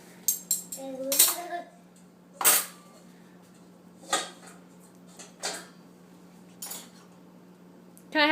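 Metal spoons and forks clink in sharp, scattered bursts as kitchen utensils are unloaded, with a high ringing clatter near the start and intermittent clanks spread through the rest, over a steady low hum.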